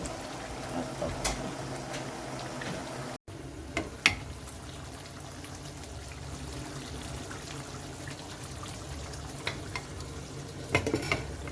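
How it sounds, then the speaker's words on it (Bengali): Duck meat frying with spices in a pan for duck curry, stirred throughout: a low, steady sizzle with scattered scraping and clinking of the spoon against the pan, several sharper knocks, and a brief dropout early on, with no talk. "আমি আগে মাংসটা খুব ভালো করে কষায় নিব।"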